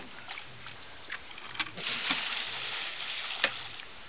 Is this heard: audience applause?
no